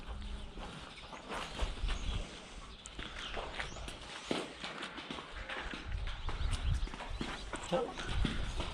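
Cows walking out of a village barn onto open pasture for the first time after winter, their hooves clopping and shuffling steadily on the ground, close by, with people's voices and farmyard noise mixed in throughout.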